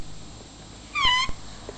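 A person's voice imitates a kitten's meow with one short, high, wavering mew, standing alone against a quiet indoor background.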